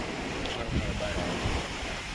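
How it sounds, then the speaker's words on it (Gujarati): Sea waves wash onto the beach at Daman, a steady rushing surf blended with gusty wind buffeting the microphone, continuous and fairly close throughout. "આમ જો મોજા તો અહીંયા છે"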